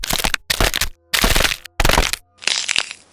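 Human bones cracking as a sound effect, heard as four loud, sharp crunching snaps in quick succession, followed by a brighter, grittier crackle.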